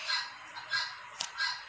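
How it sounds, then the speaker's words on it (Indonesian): A chicken clucks faintly in the background, three short nasal calls spaced evenly apart with a brief click between them. "ada suara ayam."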